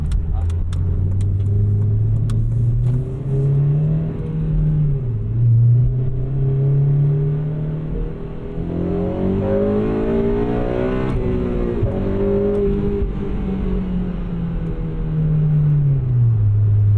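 A 2008-era eighth-generation Honda Civic Si with a 3-inch full race catback exhaust revs steadily up and down, a loud, throaty exhaust note rising and falling continuously with no talking.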